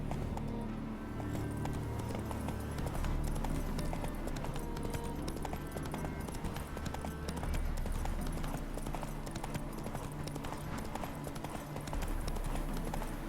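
Horse galloping in The Witcher 3, a fast, loud, steady clip-clop of hooves over a dense game soundscape that runs without a break, with no speech.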